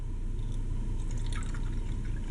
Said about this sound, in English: and then pour in some distilled water.